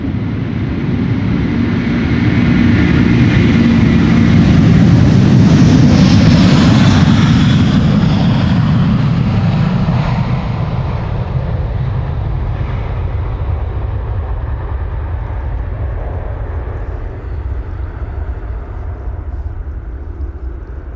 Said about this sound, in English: this is the A330-300 to Tampa